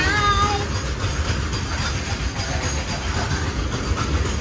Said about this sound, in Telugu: ఇప్పుడే గూడ్స్ ట్రైన్ వెళ్ళింది